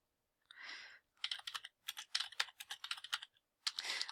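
Fingers typing text into a spreadsheet cell on a computer keyboard, close and fairly quiet, with clustered rapid key clicks between a few longer, broader key presses at the start and end, no talking.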